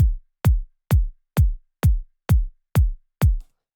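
A layered electronic kick drum for a psytech track repeats eight times at an even, quick tempo. Each hit is a punchy, deep thump that pitches down and decays cleanly into silence, with a faint bright top from the layered percussion.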